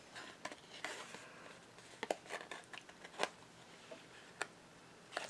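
Slightly sticky scissors fussy cutting around a recycled Christmas card, scattered faint close snips and crisp clicks at an irregular pace.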